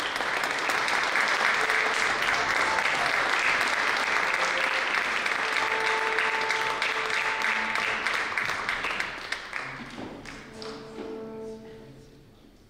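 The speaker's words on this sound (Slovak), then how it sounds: "tak teraz k tomu nášmu obdivu pripájame aj potlesk, ktorý vás odprevadí z nášho pódia" Sustained applause from a seated audience at a Slovak culture minister's award ceremony on stage, dense and steady clapping that thins and tapers toward the end into scattered claps.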